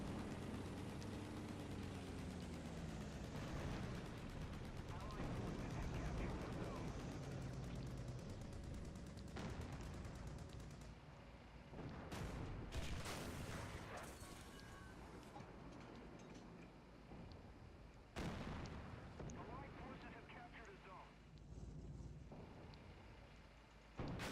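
Tank cannon fire in the game War Thunder: a busy, dense mix of engine rumble and several sharp, loud gun blasts and impacts spread across the stretch, with a voice heard briefly.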